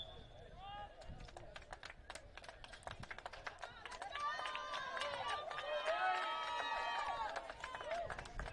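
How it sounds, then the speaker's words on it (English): Crowd noise at a high school soccer sectional championship between crosstown rivals HSE and Fishers, a steady roar of voices and cheers that swells midway, with a commentator talking over it. "You can hear the crowd."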